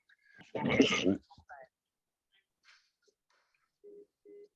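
A phone call to a barred number plays a quiet automated recorded voice message, followed after a pause by two short, evenly spaced beeps.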